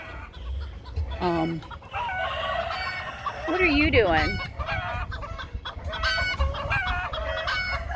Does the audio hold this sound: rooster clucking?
yes